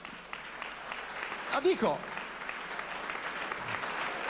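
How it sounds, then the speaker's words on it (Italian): Applause for a mayor at an Italian book presentation, steady moderate clapping from an audience with someone briefly talking over it partway through. "Facciamogli almeno un applauso."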